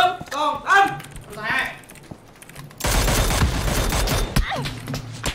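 Dense automatic gunfire erupts in the PUBG battle royale game during a tournament match, a loud sustained burst following excited voices, with players talking before and over the shots.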